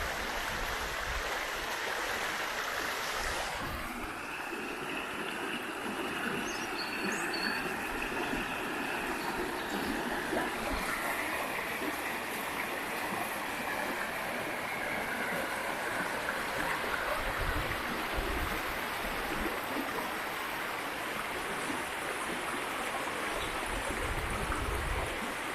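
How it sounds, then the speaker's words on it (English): Rushing river water makes a steady, full wash throughout, with a few faint bird calls rising briefly above it. "listen to the river and all the birds singing their songs here"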